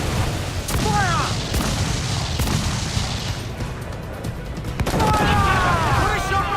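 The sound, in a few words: ship cannon fire in the video game Assassin's Creed IV: Black Flag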